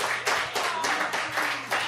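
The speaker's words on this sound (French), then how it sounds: "Applaudissez." An audience on a French television game show claps in broad pulsing swells, moderate and slightly distant, with no talking over it.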